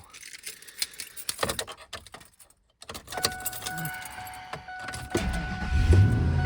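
Keys jangle and small clicks inside a truck cab, a brief hush, then the truck engine cranks and catches, swelling into a deep, loud rumble at the end.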